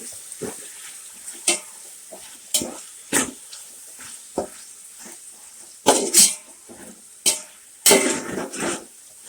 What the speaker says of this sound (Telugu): ఇలా వేగిన దాంట్లో టమాటా కూడా వేసేసుకోవాలి.